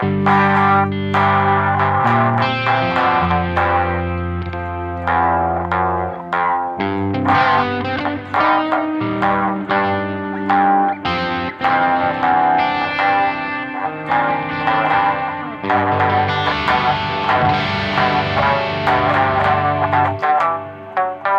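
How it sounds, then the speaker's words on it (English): Electric guitar through a delay followed by reverb, so the repeats wash into a big ambient tail, played as a continuous flow of chords and melodic notes, loud and full with no talking. "we put reverb after delays so that we reverberate the repeats of the delay"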